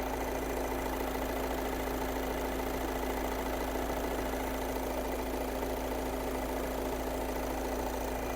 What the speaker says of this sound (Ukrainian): Дуже гарно, чисто працює, так як має працювати двохлітровий дизельний двигун.